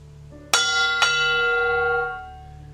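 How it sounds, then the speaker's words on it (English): A brass dinner gong is struck twice with its clanger, about half a second apart, leaving a bright, bell-like ringing tone that lingers and slowly fades. "a dinner gong and the clanger."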